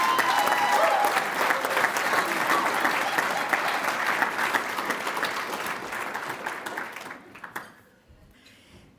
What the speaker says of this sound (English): Please give our staff a huge round of applause.